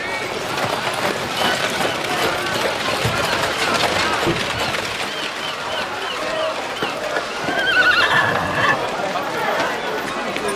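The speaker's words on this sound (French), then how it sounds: "Bien la calèche, Bertuccio, bien." A horse-drawn calèche rolls along with steady clopping hooves and an occasional whinny, loud and close, while people talk over the scene.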